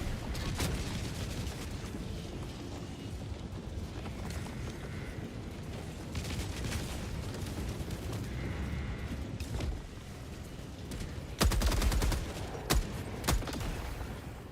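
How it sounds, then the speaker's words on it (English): An airburst explosion raining projectiles down in Helldivers, amid dense, continuous battle noise with rumbling and mechanical clatter, ending in a rapid cluster of sharp, loud bursts. "does an airburst explosion, exploding midair, raining projectiles down"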